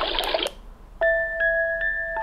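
A water-themed phone ringtone: a brief splashy burst of water-like noise, then a bright electronic chime that rings out with sustained tones.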